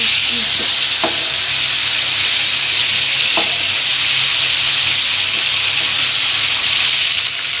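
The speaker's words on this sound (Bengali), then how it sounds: "চিংড়ি মাছটা ভাজা হোক" Prawns frying in a pan of oil make a loud, continuous close-up sizzle with a steady hiss throughout and a couple of faint clicks, with no voices.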